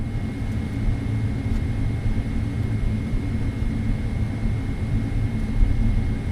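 Airliner engines spooling for takeoff from runway 27 left in a flight simulator, on a Pittsburgh to Philadelphia departure, a steady low roar that holds evenly throughout without speech.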